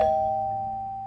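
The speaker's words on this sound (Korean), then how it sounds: "그때 초인종이 울리고 며느리가 들어왔습니다." A single doorbell chime rings out clearly at the start and its tone lingers, slowly fading over about a second with no other sound around it.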